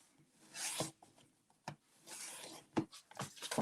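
Thick cardstock for a DIY Christmas gift box being scored and burnished, giving soft rubbing and rasping strokes in bursts, with a few sharper scrapes near the end, close and quiet.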